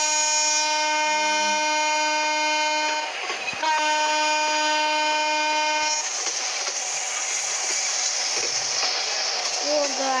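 In a train simulator video game, a loud, sustained multi-tone train horn blares, briefly breaks and sounds again, then gives way to rumbling train noise with a voice faintly talking underneath.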